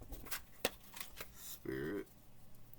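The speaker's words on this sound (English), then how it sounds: "Let me get a couple of shuffles." Oracle cards are shuffled by hand in a series of crisp, rapid riffling bursts and soft slaps, close and fairly quiet, with a person speaking briefly in the middle.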